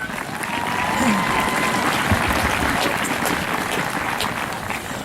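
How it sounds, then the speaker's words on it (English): Outdoor crowd at a Relay for Life charity event in Chatham-Kent applauds in a broad, sustained wash, with voices and cheering mixed in and a faint whistle-like tone drifting through. "please give yourselves a round of applause"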